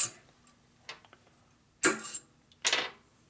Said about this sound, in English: Just knocks the pin out.